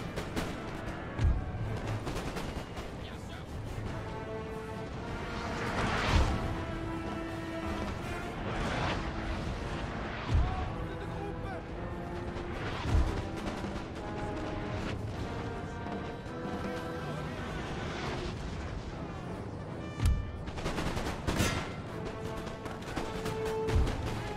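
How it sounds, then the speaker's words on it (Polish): Napoleonic-era cannons firing on an enemy general in the strategy game Napoleon: Total War, a series of heavy booms spaced every few seconds over continuous battlefield noise. "Wszystkie armaty strzelać w generała."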